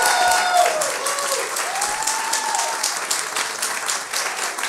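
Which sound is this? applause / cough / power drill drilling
applause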